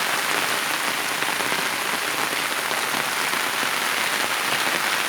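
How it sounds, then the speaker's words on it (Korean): Steady heavy rain falling on a sloped jujube orchard, a dense, even, loud patter on the ground that continues throughout with no other sounds. "비가 쉬지 않고 내려서 이렇게 사과대추 두둑에 물이 잘 흘러내리지를 않고 있습니다"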